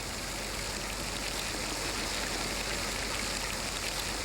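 Stones and pebbles raining down during the 1991 Mount Pinatubo eruption, a dense, steady hiss of countless small impacts, loud and continuous like heavy rain.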